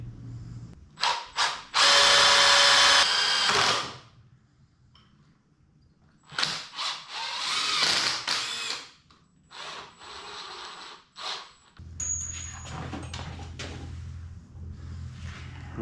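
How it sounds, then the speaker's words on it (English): Power drill boring holes in a part for a 1932 or 1936 Ford in a home garage, with several loud whirring bursts of a few seconds each, separated by short quiet gaps and faint rattling. "I hate drilling holes, and somehow I'm always stuck drilling holes"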